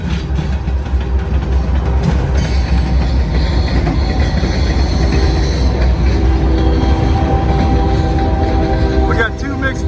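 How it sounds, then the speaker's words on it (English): A Norfolk Southern mixed freight train rolls past on CSX track at a rail interchange, with a loud, steady rumble and rhythmic clatter of wheels on rail, a brief squeal near the end, and someone talking over it. "2 Norfolk Southern trains on CSX track."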